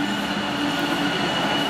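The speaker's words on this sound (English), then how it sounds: "that's a train" A train rolls past close by in a steady, loud rumble with a faint wheel hum and squeal, continuous throughout with no talking.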